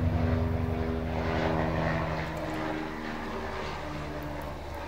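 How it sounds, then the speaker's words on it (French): A propeller airplane drones overhead, its engine hum loud at first then gradually fading as it passes, with no voices. "Je suis désolée pour l'avion que vous entendez certainement."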